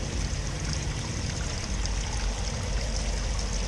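Coolant pours and gushes steadily out of the thermostat housing of a VR6 Corrado engine as the cooling system is filled and flushed, a loud, continuous watery rush close by.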